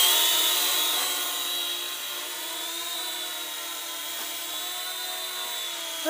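A small JJRC H37 Elfie foldable selfie drone hovers nearby with a steady, high whining propeller buzz that wavers slightly in pitch throughout, loud and continuous with no talking.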